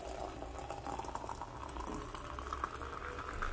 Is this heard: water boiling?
yes